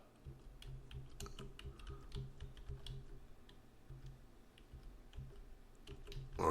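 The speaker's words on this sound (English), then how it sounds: "So if you hear me quiet for a second, it's because I'm typing." Quiet keystrokes tap away on a computer keyboard in uneven bursts with short pauses, close to the microphone and with no voices over them.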